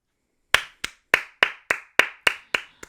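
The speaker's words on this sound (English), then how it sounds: "Round of applause for the XFL." A single person claps nine times at a steady, even pace, each clap sharp, close and dry with silence between, starting after a brief quiet pause.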